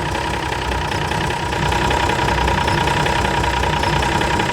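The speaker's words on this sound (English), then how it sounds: "just gonna try and see if I can get this thing into gear" A Unimog 416 engine runs steadily at idle, loud and close, with a slight rise in level as the truck is put into gear; no talking.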